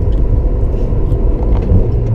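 Honda Civic ESI engine at high revs, around 7000 rpm, a steady loud, strained drone with heavy low rumble filling the whole stretch, close up inside the car.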